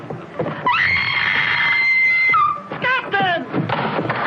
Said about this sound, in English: all that screaming